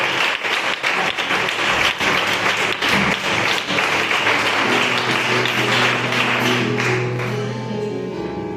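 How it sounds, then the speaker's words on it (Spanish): Church congregation applauding, a dense burst of many hands clapping that thins toward the end as murmuring voices take over. "Le damos un fuerte aplauso para el Señor"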